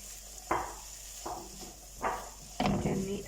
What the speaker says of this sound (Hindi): चने ऐड करने के बाद हम इसे अच्छा सा भून लेंगे